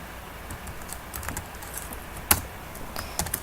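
Close, quiet typing of C# code on a computer keyboard, an irregular patter of light key clicks with one sharper keystroke near the middle.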